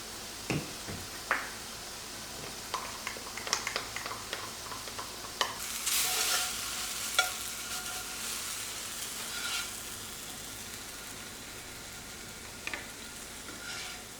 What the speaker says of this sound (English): now they need to crisp up. I'm gonna stir it up.